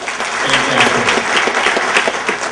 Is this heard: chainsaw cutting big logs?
no